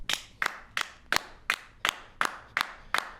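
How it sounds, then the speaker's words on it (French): Slow, evenly spaced single claps, about nine in three seconds, crisp and fairly close, from a studio audience on a Quebec talk show, with no voices over them. "Fait que applaudissements simples de ma part."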